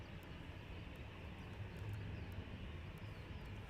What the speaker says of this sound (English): I can see the Ryanair is now taxiing down towards us